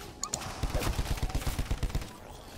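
Pistol shots fired at a werewolf in a video game ring out as a rapid, evenly spaced run of about a dozen sharp cracks, loud and close, with faint talk underneath.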